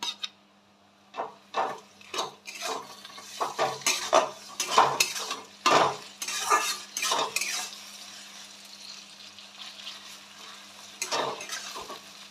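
A spatula stirs and scrapes ground garlic, ginger and cumin masala frying with onions in a pan, in bursts of clattering strokes and soft sizzling against a steady low hum, with quieter gaps between bursts.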